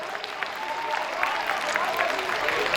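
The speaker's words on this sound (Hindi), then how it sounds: "बात समझ आए तो ताली बजाना" An audience at a Hindi comedy poetry recital breaks into dense, building applause, many hands clapping together and growing louder, with some crowd murmur mixed in.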